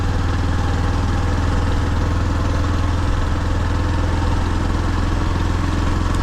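A motorcycle with a BS6 engine hums along at a steady mid-pitched drone, the engine note continuous and close with constant road and wind noise.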